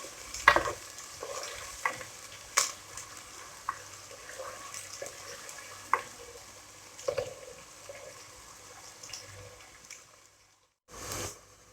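Onions fry in hot oil in a home kitchen, a soft steady sizzle broken by scraping stirs and clinks of a spoon against the pan.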